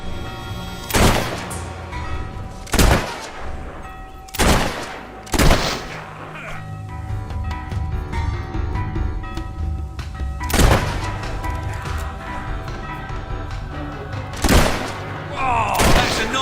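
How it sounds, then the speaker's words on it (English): Gunfire in the video game Fable 3, sharp loud shots in irregular bursts and single blasts spread across the stretch, with background game ambience and speech between the shots. "They're shooting at us!"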